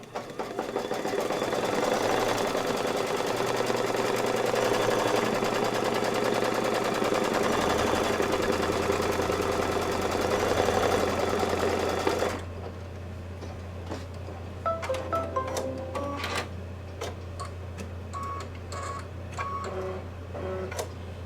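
An embroidery machine sews a placement stitch on background fabric for a Kimberbell Christmas ornament. It runs as a continuous, close mechanical whir for about twelve seconds, then stops, leaving a few soft clicks and electronic beeps.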